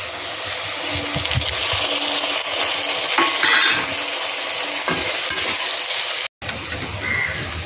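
Onions and tomatoes fry in oil in a pan with a continuous bright sizzle, punctuated by occasional stirring scrapes, close and steady.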